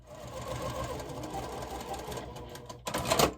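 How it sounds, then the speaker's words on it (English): A sewing machine stitches a quilt block, running at a steady close mechanical whir before a brief louder burst near the end; no one speaks. "So I'll sew just a little bit on the other side of that line,"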